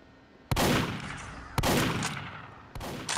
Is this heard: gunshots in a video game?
yes